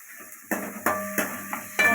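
Sliced onions tipped into a frying pan with green chillies, giving several sharp clattering drops and bursts of sizzle in quick succession, close and fairly quiet.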